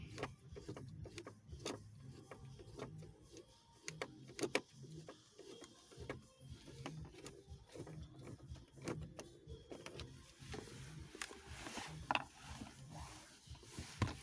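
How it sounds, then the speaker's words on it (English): A screw being worked loose from an aftermarket Android navigation unit in a BMW 5 Series E39 dashboard, with quiet ratcheting clicks and small mechanical taps repeating close by throughout. "You have to start from here remove this screw"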